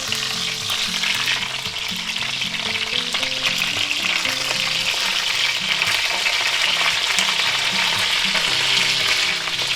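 Thick boneless pork chops fry in a cast iron skillet, giving off a loud, continuous, close-up sizzle and crackle that holds steady for about ten seconds with no talking.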